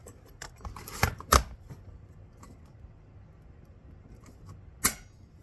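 A few sharp, distinct clicks from a tool tightening screws on a nitro engine cooling head, two close together early on and a single one later, against near silence.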